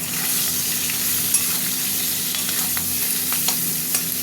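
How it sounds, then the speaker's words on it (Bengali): Potato and eggplant pieces frying in oil alongside hilsa fish, giving a steady close sizzle with occasional soft stirring scrapes throughout, no voices. "এগুলো এর সাথেই এখন ভাজবো তেলের সাথে"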